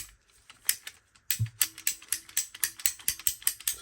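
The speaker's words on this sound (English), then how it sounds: "and then to use the ratchet" A lightweight ratchet plastic pipe cutter clicks as its handle is worked on a pipe, first a few isolated ticks, then a quick run of sharp regular clicks in a steady rhythm, close and clear with no voices.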